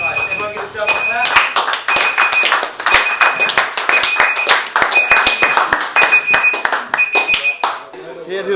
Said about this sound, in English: Everyone give yourself a clap.